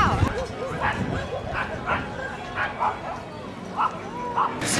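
Several dogs at an outdoor park dog show with competitions underway, yips and barks popping up repeatedly over steady crowd chatter and people talking nearby.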